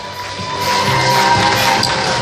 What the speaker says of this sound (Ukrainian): Оплески не вщухають